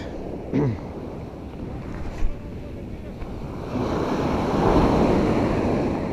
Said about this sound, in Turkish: Ama dalga biraz yüksek